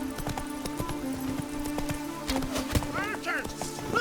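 Roach, Geralt's horse in The Witcher 3: Wild Hunt, gallops with rapid clip-clopping hoofbeats under steady game ambience, while voices talk over the ride.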